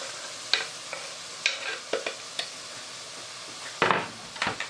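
Chopped vegetables stirred into frying masala in a pot for a Gujarati curry, with a handful of scraping stir strokes and soft sizzle, a cluster of louder strokes toward the end.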